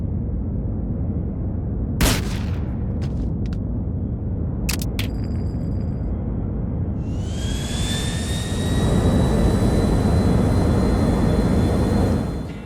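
Jet airliner engine in GTA 4, a steady loud broadband roar that swells and rises in pitch near the end, with a few sharp clicks and bangs early on.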